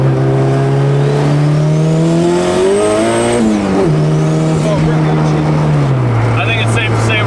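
A turbocharged B18C Honda Civic on slicks accelerates hard onto a highway. The loud engine note climbs steadily in pitch, drops sharply at a gear change, then pulls again as the revs rise.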